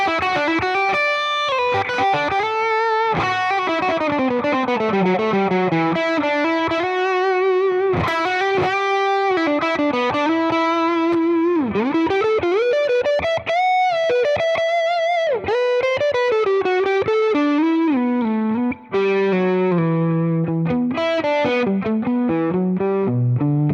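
An overdriven Ibanez AZ Standard AZ24S1F electric guitar plays a continuous melodic line, sustained gritty notes bending and sliding, loud and alone.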